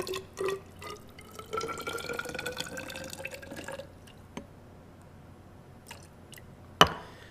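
About 50 mL of water trickles and drips into a container during a cellular respiration lab, a steady pour that fades out, followed by a few isolated clinks and a sharp knock near the end.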